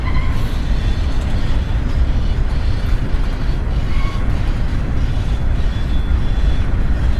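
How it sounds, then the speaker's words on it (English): Norfolk Southern freight locomotives shoving cars back into a rail yard in Chattanooga, a loud, continuous low diesel rumble and rolling noise with faint squeals, steady the whole way through. "as the locomotives work and push it back into the yard where they'll drop these cars"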